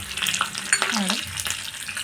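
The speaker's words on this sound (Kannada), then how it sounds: "ಜೀರಿಗೆನ ಹಾಕ್ತಾಯಿದ್ದೀನಿ ಸ್ನೇಹಿತರೆ. ಇದು ಸ್ವಲ್ಪ ಚೆನ್ನಾಗಿ ಚಟಪಟ ಅಂತ ಅನ್ನಬೇಕು" Cumin seeds sizzle and splutter in hot oil for a South Indian spinach and fenugreek sambar tempering. A steady close crackle with small pops carries on throughout, with no voices.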